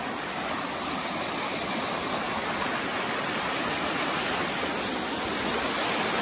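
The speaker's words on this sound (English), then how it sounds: "At the top of a waterfall." A waterfall heard from the top on an Oregon hike gives a loud, steady, unbroken rush of falling water close by, with no voices over it.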